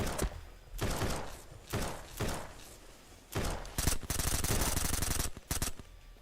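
Gunfire in the survival video game SurrounDead, heavy broadband bursts of shots in separate volleys with a sustained rapid-fire stretch near the end, loud and close, with no talk.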